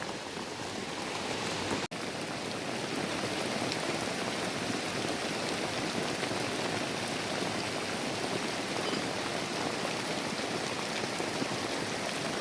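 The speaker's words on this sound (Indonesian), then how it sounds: "Sudah mulai turun ya hujannya tuh." Steady rain pours down in a dense, continuous hiss, loud and close, with one brief click near the start.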